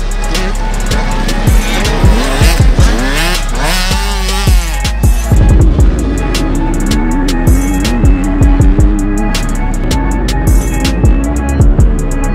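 Motocross motorcycles racing at a Walton OPC round, engines revving and shifting loudly up and down with repeated throttle surges and passes, close and continuous, with some voices faintly mixed in.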